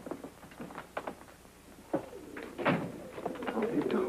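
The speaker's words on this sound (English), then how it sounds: "What's that? Sounds like pigeons." A flock of carrier pigeons coos in soft, scattered calls, mostly under a voice, with a few thumps mixed in.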